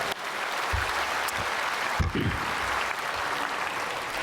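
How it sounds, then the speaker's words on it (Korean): A church congregation claps together in a sustained burst of applause that fills the hall, with a few brief murmured voices underneath. "우리 백악관과 바이든 대통령에도 박수 한번 해주세요"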